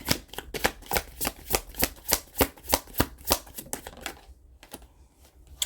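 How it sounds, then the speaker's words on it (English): Tarot cards being shuffled in a rapid, even run of crisp riffling snaps, close and clear, then slowing to a few scattered flicks at the end. "Let's pull some cards and see what you need to hear today."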